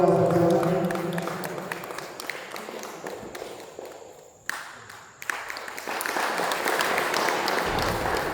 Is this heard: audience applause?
yes